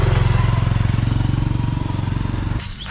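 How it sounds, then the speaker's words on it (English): A motorbike taxi engine idles close by in Thailand, a loud, steady, throbbing putter with fast regular pulses that fades out near the end. "No, this is a motorbike taxi, look."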